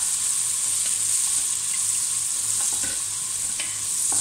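Green onions fry in hot oil for Kathiyawadi undhiyu, a loud, close, continuous sizzle with faint scraping clicks from stirring and no talk.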